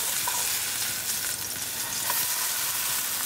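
Yellowfin tuna steaks pan frying, a steady close sizzle and crackle running throughout with soft stirring scrapes and no voices.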